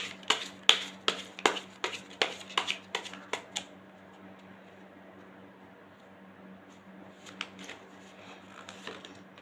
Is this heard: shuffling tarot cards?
yes